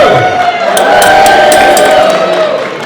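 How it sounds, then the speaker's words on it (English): A crowd at a cosplay contest cheers for the heroes with a loud, sustained roar of voices and whoops rising and holding for a few seconds before easing off. "Cheer for heroes."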